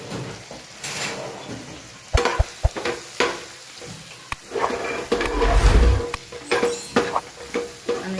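Gravy with onion garlic masala fries in a pan, with steady loud sizzling up close, punctuated by sharp scraping and knocking from a spoon stirring against the metal.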